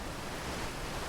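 Waterfall rushing in the video game Outer Wilds, a steady, dense roar of falling water that stays loud and even throughout, with no voices.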